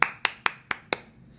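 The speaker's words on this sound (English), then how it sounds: "Let me applaud to you." Five sharp, evenly spaced hand claps from one person, close and crisp, ending quickly with a short fade into quiet.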